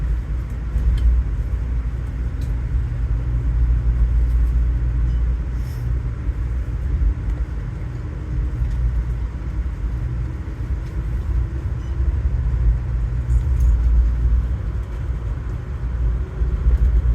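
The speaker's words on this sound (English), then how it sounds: "It always amazes me how those Siemens ACS 64 engines can accelerate to top speeds like" An Amtrak train hauled by a Siemens ACS-64 electric locomotive accelerates after leaving Washington Union Station, heard from inside as a steady, low rumbling roar with continuous track noise throughout.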